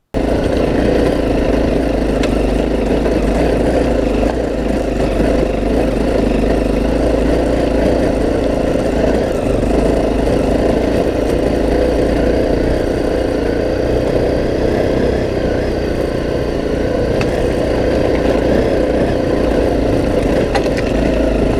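A small rally motorcycle at the 2017 Dakar Rally labours on a steep hill climb. Its engine drones loud and close at a steady idle-like pitch for the whole stretch, with no voices.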